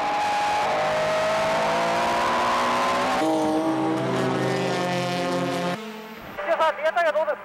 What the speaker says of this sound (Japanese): 19周目、2コーナーへのアプローチでついにエッソの飯田が挙動を乱す